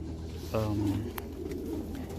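Domestic pigeons give a single soft, throaty coo, close and brief, followed by quiet background noise and a faint click.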